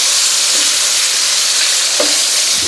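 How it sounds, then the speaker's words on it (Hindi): Tomatoes fry in hot ghee for chicken karahi, a loud, dense, continuous close sizzle and hiss with faint scrapes of stirring underneath and no voices. "टमाटर अच्छी तरह मिक्स हो जाए इसमें घी में।"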